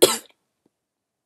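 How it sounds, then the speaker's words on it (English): A woman's single sharp cough, loud and close, lasting a fraction of a second before silence. "Sorry, I'm like kind of coughing."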